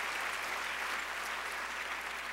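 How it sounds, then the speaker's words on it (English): Steady applause fills a luncheon room as a crowd claps for Cecile Richards of Planned Parenthood, an even wash of many hands at moderate, somewhat distant level with no voices on top. "Let's clap right now for Cecile."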